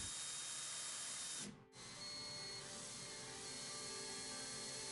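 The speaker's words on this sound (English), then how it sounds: "I first drilled shallow pilot holes for the screws" A power drill bores shallow pilot holes into a wooden picture frame made from 2x4 lumber, giving a steady motor whine that cuts out briefly partway through before resuming.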